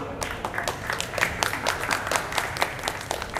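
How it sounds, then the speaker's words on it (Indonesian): A community festival audience in Bekasi claps for Bang Khair, a steady burst of applause from a moderately sized crowd, heard a little way off with no voices over it. "Kita beri aplaus dulu untuk Bang Khair."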